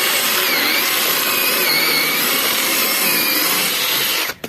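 A Procraft PKA 32Li cordless mini saw cuts through a thick, damp piece of wood with a continuous loud buzzing whine that runs steadily for several seconds, then abruptly stops.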